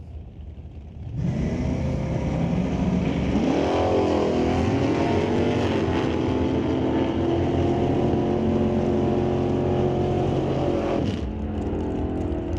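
A 1965 Dodge Coronet drag car launches at an old-time drag strip, its engine roaring loud and close, revving up through rising gear pulls before cutting off near the end.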